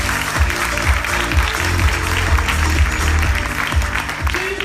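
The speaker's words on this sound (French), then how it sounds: "Et on peut encore applaudir Alix." An audience at a speech contest in Brussels applauds the speaker Alix, with continuous clapping running throughout beneath a low, rhythmic musical backing.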